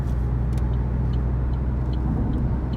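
A 2020 Opel Corsa with a 75 hp 1.2 petrol engine cruises on the motorway, giving a steady, close cabin drone of engine and road rumble with faint ticks above it.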